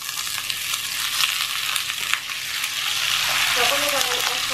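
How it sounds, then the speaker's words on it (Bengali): Potatoes tipped into a hot pan with chili and onion, a loud close hiss of frying that swells toward the end as the potatoes land. "এখন দিয়ে দিচ্ছি মরিচ আর দেব পেঁয়াজ। আলুগুলো ঢেলে দিচ্ছি।"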